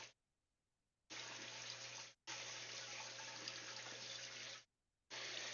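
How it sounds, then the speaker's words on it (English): Water pouring steadily during an aquarium water change, three long bursts of rushing flow separated by brief pauses, with no talk. "We don't want to do too much of a water change."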